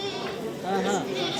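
Goats bleat at the Ganja livestock market among the animals. Several overlapping, wavering bleats rise close by, with murmured crowd voices underneath.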